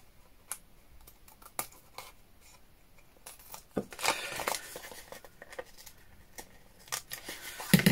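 Scissors snip through paper and envelope pages while a junk journal is assembled, a series of close, irregular crisp cuts and rustles with brief pauses and a louder burst of cutting midway, no talking.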